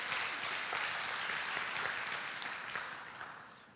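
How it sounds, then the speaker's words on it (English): A church congregation applauds during a pastor's sermon, a dense wash of hand clapping that holds steady and then gradually fades toward the end. "Give yourself a hand clap."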